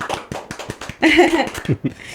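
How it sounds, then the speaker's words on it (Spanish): A handful of people at a podcast recording give a short burst of light, sharp hand claps, close and brief, with a whoop and voices joining in partway through. "Un aplauso."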